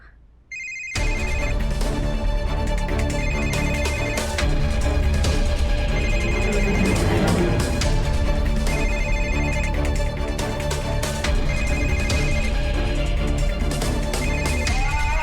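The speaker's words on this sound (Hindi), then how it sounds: "ये रहा राधा का फोन, सोफे के नीचे ही था, गिर गया होगा शायद।" A mobile phone ringtone starts abruptly from under a sofa and keeps ringing in a repeating melodic pattern, loud and steady, with no one speaking over it.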